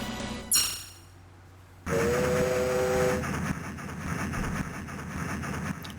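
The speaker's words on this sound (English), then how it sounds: "I wonder who's conducting that train." A train in the TMNT Turtles in Time arcade game, with a sharp whistle-like burst followed by loud rumbling, rattling passage and a rising tonal blast, continuous and close.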